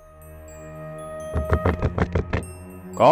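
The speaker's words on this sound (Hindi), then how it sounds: "दरवाजा खटखटाने की तमीज नहीं है?" Six quick, firm knocks on a door sound in an even rhythm, close and clear, in an indoor scene from a TV drama.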